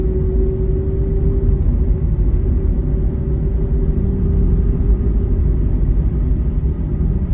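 Heavy road traffic rumbles steadily on EDSA Balintawak, a continuous low drone of engines with faint higher clicks and no clear passes standing out, loud and close throughout.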